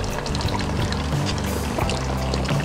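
Fresh water pouring steadily from a public spigot in Saratoga Springs, New York, a continuous close splashing flow with a low rumbling undertone and no talk over it.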